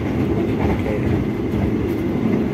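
A Jaka Tingkir economy New Generation passenger train runs along the line, a loud, steady low rumble of wheels and carriage heard from inside, continuous and unbroken.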